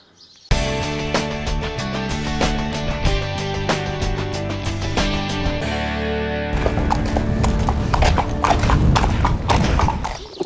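Horse hooves clip-clop in a steady rhythm at a racing stable, close and loud over a bright, jingly musical backdrop, with the hoofbeats continuing throughout.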